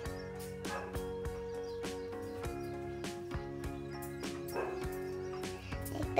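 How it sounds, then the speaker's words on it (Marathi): Outside a house, a dog barks in a few quiet, scattered bursts that sound distant and faint against a steady tonal background. "बाहेर कुत्रं भुकताय, तर का भुकताय बाहेर बघून येते"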